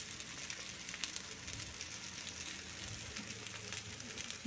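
Food roasting on a hot pan, cooked on both sides, giving a steady, soft, close sizzle with faint crackles throughout and no talking.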